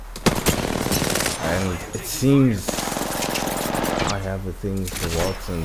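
Rapid automatic gunfire from the video game Apex Legends, bursts of close rattling shots running under someone talking, with a brief electronic tone partway through.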